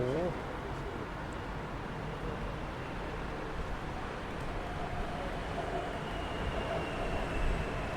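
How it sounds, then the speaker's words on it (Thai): A driverless BTS Skytrain rumbles into a station in Thailand with a steady broad roar throughout, the sound swelling slightly near the end. "ตัวนี้จะเป็น รถไฟฟ้า สาย รถไฟฟ้า BTS นะท่านผู้ชม มาแล้ว"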